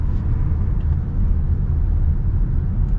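A 2025 Toyota Crown Platinum cruises on the road, heard as a steady, loud low rumble of tyre and road noise inside the cabin, unbroken throughout.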